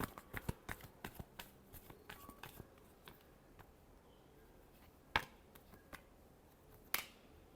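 Tarot cards being shuffled in one last pass, a run of quick soft riffling clicks and flicks over the first few seconds, then sparse louder snaps near the end, all faint and close with no talking.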